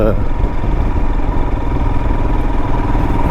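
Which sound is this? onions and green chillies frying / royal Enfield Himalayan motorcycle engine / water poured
royal Enfield Himalayan motorcycle engine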